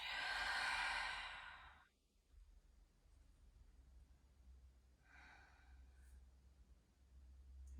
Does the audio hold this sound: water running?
no